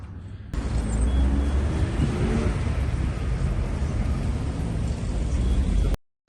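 Street traffic rumbles at a city bus stop in Yakutsk, a steady, loud, broadband roar of passing vehicles close by that holds for several seconds before cutting off abruptly, with no talking.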